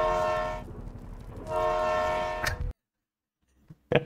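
A cartoon train horn blares in a Thomas the Tank Engine parody of Skibidi Toilet, two long sustained blasts separated by a short gap, then an abrupt cut to silence and a brief sharp burst at the end.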